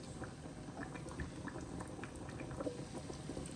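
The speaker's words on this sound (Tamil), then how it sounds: "இப்போ இது கொதிச்சு கொண்டு வருது" Curry water for spicy chicken biryani boils steadily in a pot, a dense, continuous bubbling and popping at close range with no voices over it.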